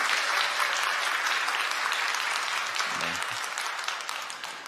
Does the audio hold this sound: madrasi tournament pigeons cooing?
no